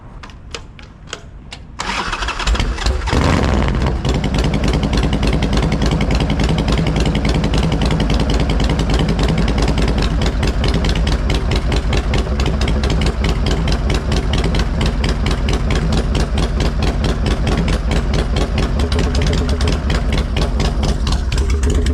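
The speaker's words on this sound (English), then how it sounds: "A moto dá uma esquentadinha aqui, a gente já sai." A Harley-Davidson Sportster chopper motorcycle fires up from a cold start, then settles into a loud, steady, throbbing idle that runs on unbroken as the engine warms up.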